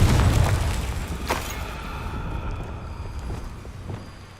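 A Confringo spell goes off in Hogwarts Legacy, a heavy booming blast up front that rolls into a long rumbling decay with a sharp crackle partway through.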